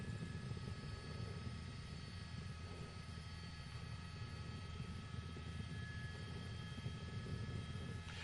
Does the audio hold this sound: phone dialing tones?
no